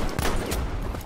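Tromboncino rifle shots in Battlefield V, a quick burst of several sharp cracks close together, loud and near over a noisy battle background.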